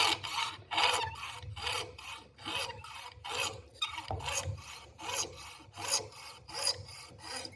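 Hand saw cutting relief notches into wood, with steady rhythmic rasping strokes repeating at close range, loud and alone with no talk.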